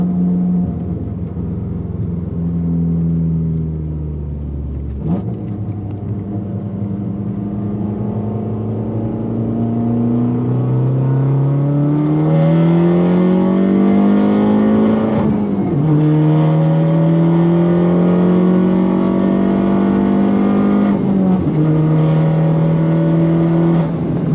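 A car pulls away in second gear, its engine drone climbing steadily in pitch as it accelerates, dropping abruptly at a shift or lift, then rising again, loud and close throughout.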